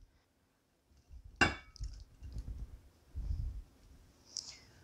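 A chicken and cheese mixture being moved into a bowl, with one sharp clink of a utensil against the dish followed by softer scraping and shuffling knocks at close range.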